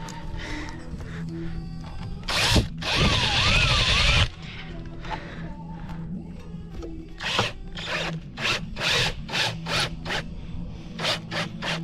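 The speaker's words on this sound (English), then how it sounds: "Let's go ahead and put it in place using our screw gun to make it quick and easy." A screw gun drives screws into a plastic gazebo footer cap: one long whirring burst, then a rapid series of short buzzing bursts, close and loud.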